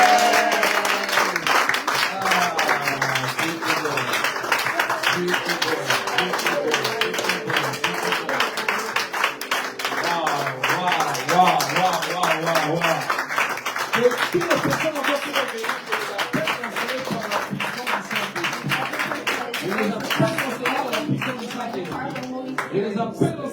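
A church congregation at a lively worship service claps and cheers continuously, a dense, even patter of applause filling the room throughout, with scattered voices rising above it.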